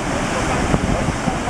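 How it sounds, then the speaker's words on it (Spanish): Falling water at a waterfall roars as a constant, broadband rush close to the microphone, with wind buffeting mixed in and no breaks across the short stretch. "aquí vamos a ver las caídas del agua"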